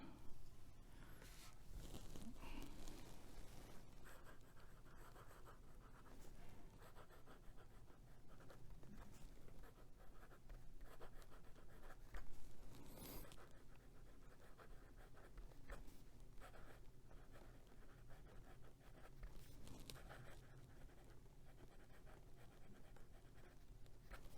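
Fine-nib TWSBI Classic fountain pen moving across paper, a soft continuous scratchy scribble with small stroke bursts, close and fairly quiet against low room hum, no talking.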